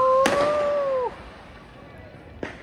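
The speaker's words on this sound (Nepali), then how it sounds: "हामीले बच्चाको लागि मात्रै थोरै थोरै पड्काउने सोच गर्दैछौँ आलु बम" Aloo bomb firecrackers set off during a family Laxmi Puja celebration: a sharp burst near the start, a whistling tone dying away, then a second fainter crack, fairly close outdoors.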